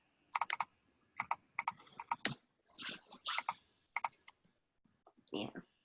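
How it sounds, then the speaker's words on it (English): Computer keyboard typing heard close up in irregular bursts of sharp clicks and clacks with short gaps, alongside faint murmuring. "You're typing in my ear."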